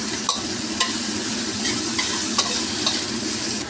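Red onion and ginger frying in hot oil in a pan, a steady, dense sizzle with a few light utensil taps as the pieces are stirred.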